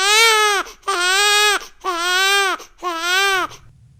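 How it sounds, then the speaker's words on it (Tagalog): An infant cries in four loud, wailing bursts separated by short breaths, close and alone as a sound effect in a Filipino horror story. "narinig niya sa likod niya ang mahinang iyak ng sanggol."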